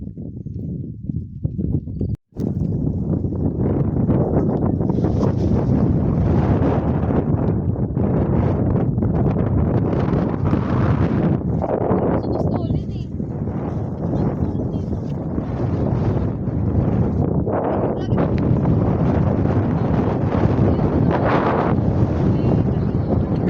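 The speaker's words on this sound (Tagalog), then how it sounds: "Lakas ang hangin. Grabe." Strong wind roars and buffets the microphone almost continuously on a mountain in Kayapa, Nueva Vizcaya, loud and rumbling, with a brief spoken phrase near the start.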